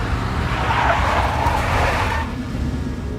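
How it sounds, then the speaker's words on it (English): A big black Mercedes car skidding in the Max Payne video game: a loud, sustained tire squeal with engine roar lasting about two seconds, then a lower rumbling engine that continues alone. "A big black Mercedes."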